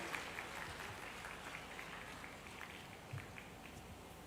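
An audience at a live public event in Indore claps to welcome the Chief Minister, a steady wash of distant crowd applause throughout with a faint thump at the end.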